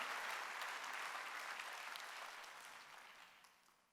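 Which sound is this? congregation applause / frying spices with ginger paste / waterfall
congregation applause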